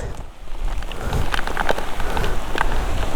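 Heavy rain pours steadily on a Honda NT1100 motorcycle trip, drops pattering densely on a nearby surface in a constant loud hiss with no voices.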